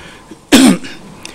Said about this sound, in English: I will have to apologize for my sinus cough, so please bear with it.